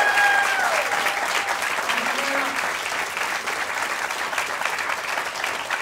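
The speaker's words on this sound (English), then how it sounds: "Ladies and gentlemen, give a massive round of applause." Theatre audience applauding steadily at a live podcast recording in a London venue, a dense loud clatter of many hands filling the whole stretch.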